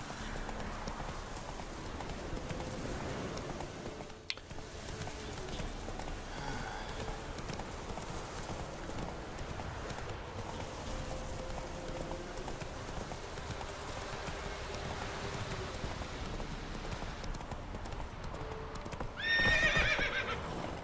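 A horse in the video game The Witcher 3 gallops in a steady, rapid clip-clop of hooves under quiet ambient game sound, with a whinny near the end.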